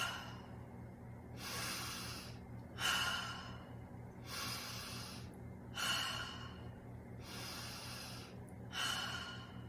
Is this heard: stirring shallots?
no